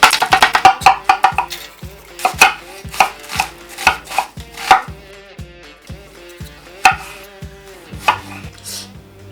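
A knife chops red chili peppers on a cutting board, with a fast burst of crisp close taps followed by slower, spaced single chops.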